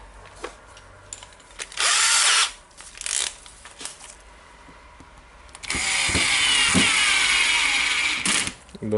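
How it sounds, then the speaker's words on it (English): A power screwdriver drives gear assembly screws into the housing of a water-damaged Makita DDF482 cordless drill, with two loud whirring bursts, the second longer, separated by short clicks and handling noises. "That means we can screw the gear Assy screws in"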